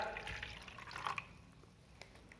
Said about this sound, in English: I will add the salt water to this jar